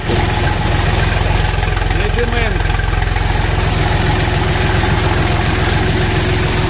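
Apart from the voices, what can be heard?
mini tractor YD 385 engine running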